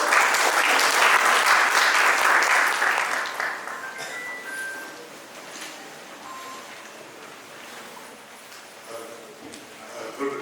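An audience at a school principals' conclave gives a loud round of applause that fades after about four seconds, leaving quieter room sounds and scattered noises.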